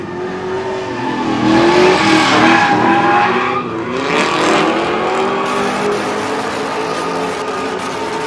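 Mazda Miata drifts in tandem at a track, engine revving hard and tires squealing in long, loud swells as the cars slide past near the listener, with no talk.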